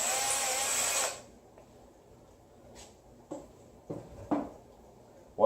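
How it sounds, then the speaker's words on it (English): Power drill boring out a dowel pin hole in an engine block during a Mazda Miata engine installation, a loud continuous whir for about a second, then quiet with a few short knocks and scrapes. "drill it out"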